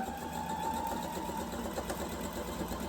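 Sewing machine stitching strips of quilt fabric for string quilt blocks, a steady close mechanical whir running continuously without pause.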